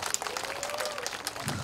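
An audience claps steadily at an outdoor pumba street performance in Ilsan, a dense patter of many hands with a voice briefly heard beneath it.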